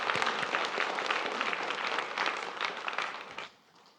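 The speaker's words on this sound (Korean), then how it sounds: "네, 박수 한번 칩시다." A church congregation applauds together at an Easter service, a dense, steady wash of clapping from many hands that fades out at the end.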